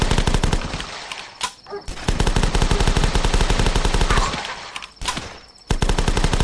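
A G5 gun fires in The Last Stand video game: rapid, loud automatic bursts with brief pauses between them, crackling continuously close up.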